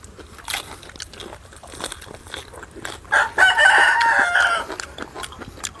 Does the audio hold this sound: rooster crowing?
yes